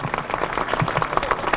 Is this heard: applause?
yes